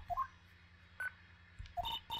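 Telephone sounds from the Phoenix Wright courtroom video game: short electronic tones and beeps, a few separated blips followed by a pair of repeated dial-like tone bursts, fairly clear and without speech.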